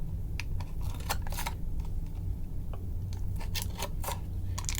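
An X-Acto knife slices guitar shielding material, a run of short crisp clicking cuts spaced irregularly over a steady low background hum.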